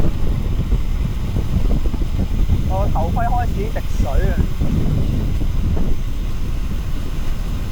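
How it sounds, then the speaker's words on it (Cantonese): Strong wind on a mountain climb in Taiwan buffets the microphone in a constant low roar while a person shouts over it. "好大風啊！"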